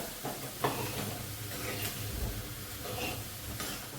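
Amchur being stirred into chickpea chole in a pan, giving soft scraping and stirring strokes over a steady low sizzle and hiss at close range.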